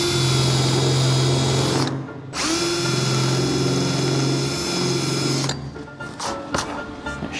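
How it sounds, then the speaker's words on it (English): An electric drill bores through rusted roof sheet metal of a 1970 Holden HG ute, with a loud, close, steady whine that stops briefly, resumes, then breaks into short bursts as the bit cuts through. "Let's get enthusiastic and drill all the way through."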